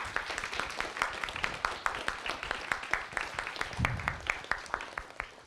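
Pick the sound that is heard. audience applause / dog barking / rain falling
audience applause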